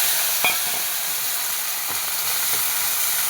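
Peeled shallots and chillies fry in hot coconut oil with a loud, even, close-up sizzle, and a few faint clicks and stirring taps sound through the hiss.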